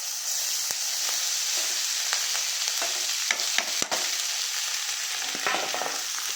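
Rice being stirred in a frying pan with a little turmeric, a continuous sizzle with repeated scraping and clicking strokes of the spoon against the pan.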